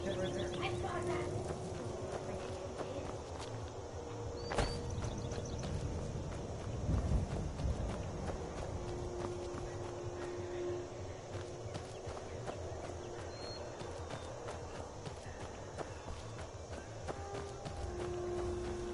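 Horse hooves gallop in Skyrim, a steady clip-clop rhythm running under continuous game ambience and music, with a louder thud partway through and a voice speaking over it.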